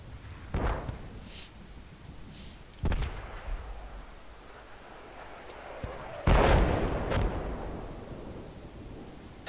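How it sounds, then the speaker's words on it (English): Mortar rounds in the military game Project Reality land as a few sharp, heavy booms spaced seconds apart, the loudest near the end, with quiet rumble between and no speech. "friendlies are mortaring on 3"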